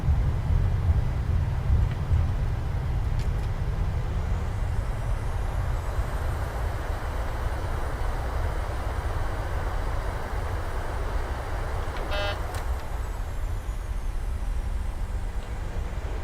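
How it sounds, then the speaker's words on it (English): Boeing 737-800 thrust reversers in Microsoft Flight Simulator 2020 on landing: a steady, loud broadband roar of engine reverse thrust holding constant throughout with little variation. "Reversers are on."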